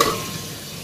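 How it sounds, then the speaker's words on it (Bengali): Potato and pointed gourd frying in oil give a brief close sizzle that starts strong and quickly settles to a softer hiss. "তো আলু পটলটাকে ভেজে নিই"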